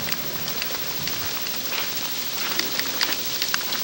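Heavy sleet pours down outdoors in a steady, dense hiss that fills the space evenly from start to finish, with scattered sharper ticks of ice pellets striking surfaces and no voices.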